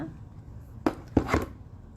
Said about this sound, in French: Je vais mettre un bout de ruban. Tiens, je vais les couper droit.